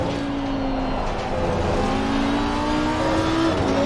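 A race car laps the Valencia circuit in the sim racing game Assetto Corsa Competizione (ACC), its engine droning loud and close with pitch climbing and shifting between gears, steady throughout with no talking.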